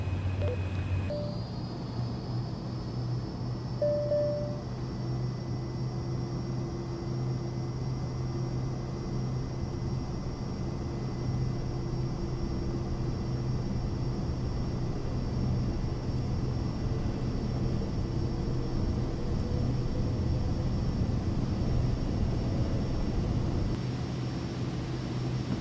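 Cirrus Vision Jet in Microsoft Flight Simulator 2024 spooling up for takeoff at Oshkosh, a steady loud jet engine roar with a whining high tone that holds for the whole stretch.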